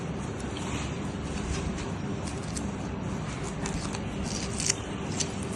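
Scissors cut bandage material during ear haematoma surgery on a dog, producing faint, repeated snipping ticks over a steady background hum.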